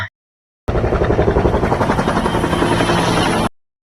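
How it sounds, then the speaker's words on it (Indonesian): Two FBI helicopters arrive in a film scene, roaring in loudly with rapid rhythmic rotor chopping, holding steady for about three seconds before cutting off abruptly. "tiba-tiba 2 helikopter FBI datang untuk menangkap Swagger"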